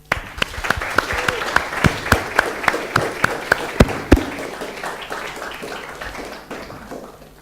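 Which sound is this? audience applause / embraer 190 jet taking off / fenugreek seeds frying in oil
audience applause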